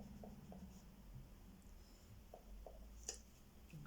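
Faint scratching of a pen writing notes by hand, short soft strokes spaced irregularly over a quiet room hiss.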